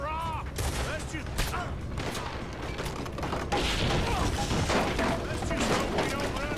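Gunfire during a robbery gunfight in Red Dead Redemption 2, repeated sharp shots and booms in quick succession, with a voice talking between them.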